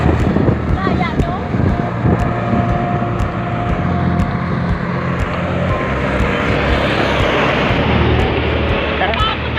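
Strong wind roars steadily against riders on a motorbike in San Jose, Occidental Mindoro, a loud continuous buffeting rush with engine rumble beneath it from start to finish.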